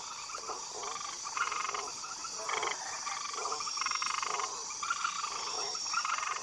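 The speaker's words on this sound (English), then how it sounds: "Pouched tree frogs love to bask in the sun" Pouched tree frogs croaking in repeated short bursts, fairly close, over a steady high insect-like chorus, with no voices.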